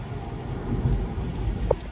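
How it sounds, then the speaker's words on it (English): Steady rain patters downtown in a continuous wash, with a soft low rumble underneath and a brief brighter tap near the end; no voices. "Yeah, it's raining downtown."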